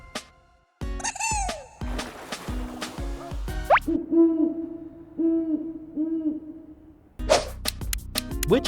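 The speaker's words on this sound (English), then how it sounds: "Owl. It's a beautiful bird." An owl hoots in a series of clear, resonant calls heard alone, with other bird and animal sounds around it, some loud and close before the hooting starts.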